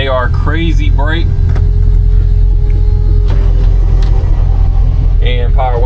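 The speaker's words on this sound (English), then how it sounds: "And power windows work" Electric power windows of a 1986 Chevy C10 pickup whir up and down in two short bursts at the start and end, close inside the cab over a steady engine idle rumble.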